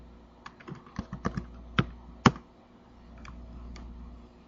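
Someone types a command on a computer keyboard, a short run of close, crisp key clicks in an uneven rhythm that trails off into quiet room tone.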